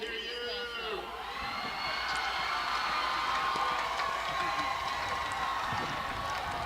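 Crowd noise at a high school football game, the Poplar Bluff Mules' home stands: a steady roar of cheering and shouting voices rises and holds loudly throughout, with a few whistles and individual yells above it.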